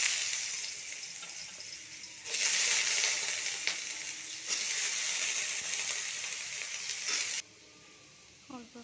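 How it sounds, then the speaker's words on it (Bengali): Potatoes hit hot oil in a wok and crackle into a loud, steady sizzle that runs for several seconds, briefly drops, then surges again before cutting back to quiet, with a few faint clinks near the end. "আমি এরপরে আলুটা ভেজে নেব।"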